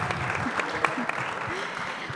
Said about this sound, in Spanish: Un fuerte aplauso para la vice